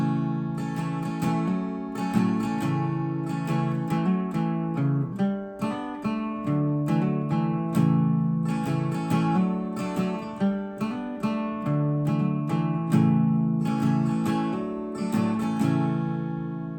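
Guitar plays the intro at regular tempo, picked chord figures with regular attacks and ringing sustain, close and moderately loud, alone without talk.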